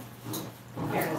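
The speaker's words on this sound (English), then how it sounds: "That is two puppies fighting. Three puppies." Puppies fighting let out close, rough growls and a sharp yip in a brief scuffle.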